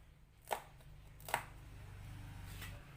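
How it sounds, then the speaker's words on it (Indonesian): Sharp knife slicing small bird's eye chilies diagonally on a cutting board, two distinct close chops with a faint third, over a steady low kitchen hum. "ini aku tambahkan 10 biji cabai rawit diiris serong juga"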